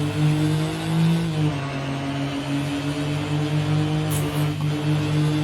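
Porsche 911 engine and exhaust in Euro Truck Simulator 2 with ProMods, heard from outside the car as a loud, steady low drone with strong harmonic hum, holding level throughout with a brief high whine near the end.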